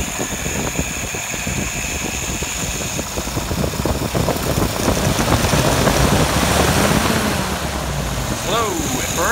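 Engine running steadily and revving up slowly during a stumble test, a dense rumbling drone that swells in the middle, with a voice speaking over it.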